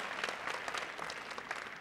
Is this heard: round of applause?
yes